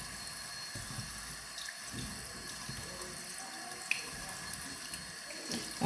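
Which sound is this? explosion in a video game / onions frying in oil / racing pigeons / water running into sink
water running into sink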